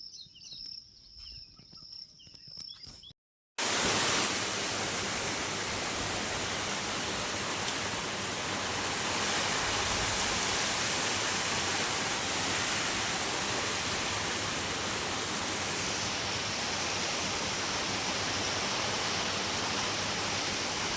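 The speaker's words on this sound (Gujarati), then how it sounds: "જુઓ મિત્રો અત્યારે ખાલી ઝાપટા આવે કોક કોક" Steady rain shower pouring down on a farm with a tiled buffalo shed, a loud unbroken hiss that starts abruptly after a few seconds of quieter ambience with birdsong.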